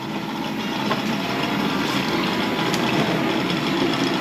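A lapping machine turns and spins engine parts during an engine build, giving a steady mechanical hum and grinding rumble at moderate loudness with faint intermittent clicks, continuous and without talking.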